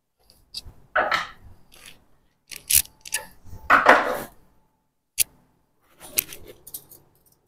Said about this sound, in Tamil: நான் அதனால் இதில் கொஞ்சம் லெட்டை நான் கட் பண்ணி போடுறேன்.